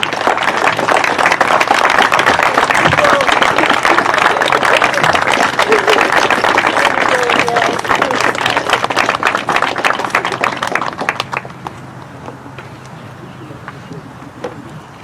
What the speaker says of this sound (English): let's give them a huge round of applause for all the help they've given you